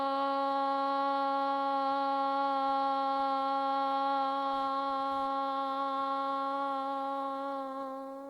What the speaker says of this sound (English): We'll begin our practice here with the sound of Om